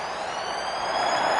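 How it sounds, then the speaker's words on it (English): The full-time siren sounds at a rugby league match, a loud, steady, continuous wail that holds without a break and swells slightly toward the end. "There's the full-time siren."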